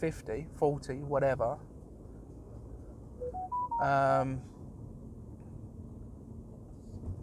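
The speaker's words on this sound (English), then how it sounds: "I'm really sorry about the phone keep going on." A phone plays a short run of rising electronic dialing tones, clear and close, between stretches of someone talking.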